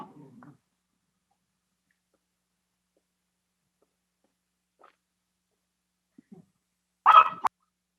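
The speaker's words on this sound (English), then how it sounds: "There's the dog." A dog barks once, loud and short near the end of a quiet stretch, after faint scattered sounds during a Board of Health meeting.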